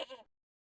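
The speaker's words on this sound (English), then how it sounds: "There's like sheep sounds here." A sheep bleats in the video game Broken Sword: Director's Cut, a single brief, faint wavering call that cuts off quickly into silence.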